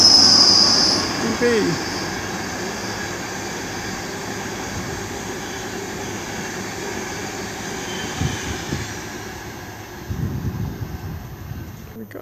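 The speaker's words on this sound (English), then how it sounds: "we've got a fast one coming through. Ooh, a class 90!" A Class 90 locomotive-hauled train passing at speed through Finsbury Park station, a steady rolling rumble with rail squeal and clatter, close and loud throughout, swelling again near the end, with a platform announcement voice faintly over it.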